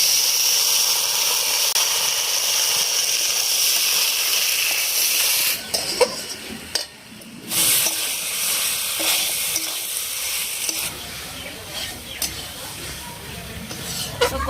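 Potatoes and boiled chickpeas stir-fry in masala for a chana paneer, with a loud, steady sizzle and hiss close by. The frying quietens after a few seconds, and scraping stirs and faint clinks continue.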